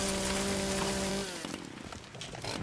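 A chainsaw cuts into a birch tree in the survival video game Once Human, giving a loud steady engine drone that breaks off about halfway through into rougher, uneven cutting and crackling noise.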